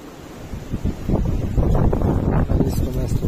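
Gusty wind blows across the microphone beside a lake where people are float fishing for carp, building from a soft rush to a loud, steady roar with choppy buffeting.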